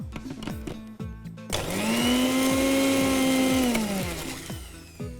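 A kitchen mixer grinds a sesame sauce with a little water, its motor whirring loud and steady for a few seconds between softer rhythmic thuds and clatter before and after.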